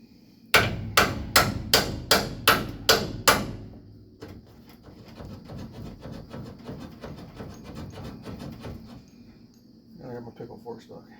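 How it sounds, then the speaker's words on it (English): A hammer striking the wheel hub of a 1957 Chevrolet 210, seven loud, evenly spaced metallic blows up close, then quieter clatter with a dog panting and whimpering in the background. "Just hitting the hub part now."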